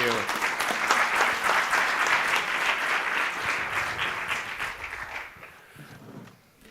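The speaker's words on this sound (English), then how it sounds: "Give them a good round of applause." A conference audience at a multi-day event gives a thick burst of applause to thank presenters. It holds strong for several seconds, then thins and fades away near the end.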